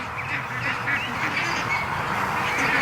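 Ducks quack in a yard, a busy overlapping chatter of calls, fairly close and continuous over the whole short stretch.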